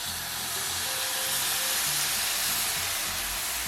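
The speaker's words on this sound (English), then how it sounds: "we're gonna pour some more water in to help it steam." A loud, steady steam hiss as water is poured into a hot pan, a dense close sizzle that holds constant for several seconds with no speech over it.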